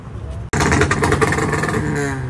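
Proton Putra car engine idling loud and close after a brief silence, a steady rumble with slight revving and turbo-tuned character, running continuously.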